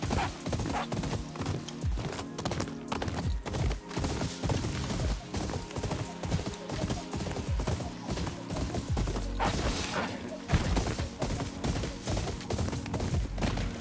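A herd of horses gallops across open ground in the Ghost of Yotei video game, their dense, rapid hoofbeats drumming steadily and loudly throughout, with no talking over them.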